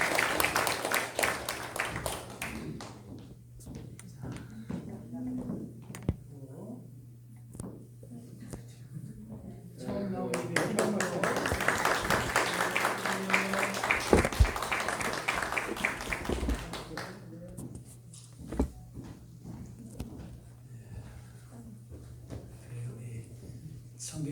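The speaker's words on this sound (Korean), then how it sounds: "우리 축하 한 박수 한번 할까요?" Church congregation clapping together after a prayer in a Sunday service, a burst of applause rising for several seconds in the middle, with someone speaking before and after.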